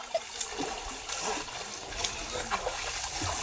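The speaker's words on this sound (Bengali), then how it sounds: "দেখো কি জোরে জোরে সাঁতার কাটছে, জল পুরো ঘোলা হয়ে যাওয়ার মতো" A man swims hard in a village pond in Hasnabad, churning the water into a steady, continuous wash of splashing and sloshing that stays at close range throughout.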